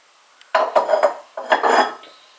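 Ceramic cups and dishes, including Moomin mugs, clink and clatter as they are handled and set on a shelf, two short bursts of close knocking and scraping in a quiet room.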